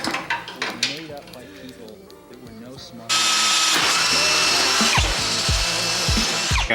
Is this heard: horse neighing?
no